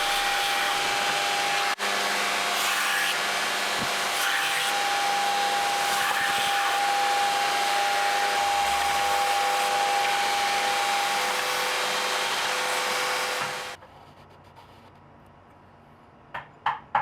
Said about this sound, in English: I grind to about 1/2 mil away from it on either side